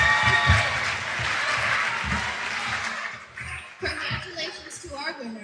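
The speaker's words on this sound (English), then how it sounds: "a huge round of applause to everyone" Audience applause at a senior speech contest, a dense wash of clapping with scattered laughter that thins out after a few seconds, leaving sparser claps and crowd murmur.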